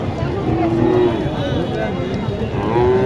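Sahiwal cattle at the Mataji cattle market in Naogaon district, with a low drawn-out moo and a second one near the end, over steady crowd noise and nearby talking.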